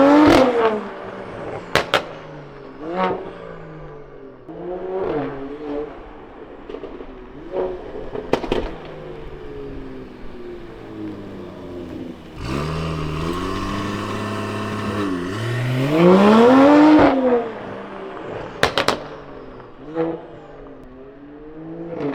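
A Mercedes E53 with a modified exhaust launches hard: a loud, sustained engine roar rises through the revs over several seconds, framed by earlier short blips and pops from the exhaust, with no talking.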